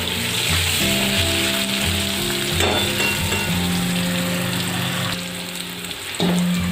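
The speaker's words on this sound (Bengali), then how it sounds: "তো আলুগুলো একটু ভালো করে ভেজে ভেজে নিয়ে তারপরে আমি অ্যাড করবো ডাঁটাগুলো।" Potato pieces frying in a pan for a cauliflower-stalk dish, producing a continuous, fairly loud, close sizzle with occasional stirring knocks and no speech.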